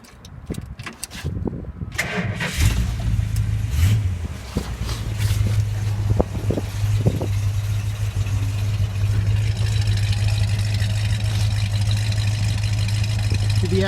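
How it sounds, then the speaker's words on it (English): A 1965 Plymouth Satellite convertible with a stock 361 big block V8, two-barrel carburetor and factory mufflers starts after a few clatters and settles into a steady, even idle that runs on alone. "361 big block, all completely stock, 30 over stock cam, 2 barrel, and she just runs like a sewing machine"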